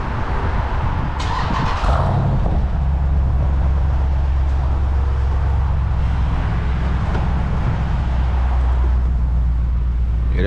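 A Jeep SRT with its mid mufflers deleted rumbles loud and close, its deep exhaust drone steady after a brief raspy rev near the start, with no one talking.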